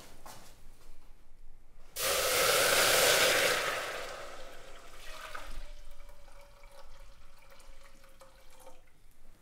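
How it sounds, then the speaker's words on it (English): Boiled water pours into a pan in a loud rushing burst for about two seconds, then settles into a softer hiss and trickle with faint ringing. "So I'll just start off with some boiled water."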